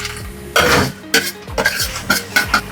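Bread halwa being stirred in a pan, with a spoon scraping and clinking against the metal in repeated strokes about every half second, close and fairly loud, over a faint background sizzle.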